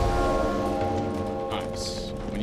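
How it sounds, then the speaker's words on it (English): A bell rings in a video game to mark the end of a round, a sustained resonant tone that slowly fades, with voices faintly beneath it. "When you hear the bell, it means it's over."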